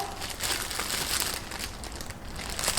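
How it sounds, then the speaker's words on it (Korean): A plastic vinyl cap crinkles and rustles steadily while it is fitted over hair freshly coated with dye at a barber's gray-coverage coloring session, close and continuous with no talking. "이제 비닐캡으로 전체적으로 덮습니다."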